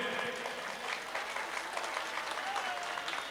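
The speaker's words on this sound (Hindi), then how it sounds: "तालियां कमजोर हैं।" A mushaira audience in Kamthee near Nagpur claps steadily, a dense, even burst of applause filling the room with no pauses, heard close and fairly loud.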